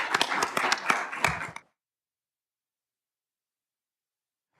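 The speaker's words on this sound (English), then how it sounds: "I'd ask just for a round of applause for our board members" A school board meeting audience claps for board members, a short burst of several hands applauding close by for about a second and a half before stopping abruptly into silence.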